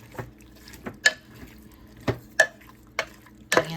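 A spoon stirs a soy sauce mixture with onion powder in a crock pot, making sparse, sharp clinks and taps against the pot at irregular intervals, close by and with nothing else heard.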